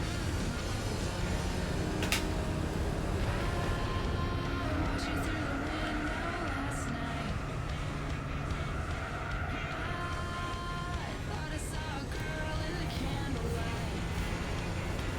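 A car engine revving in a racing video game, a car with four gears, producing a continuous, steady whining drone with no breaks.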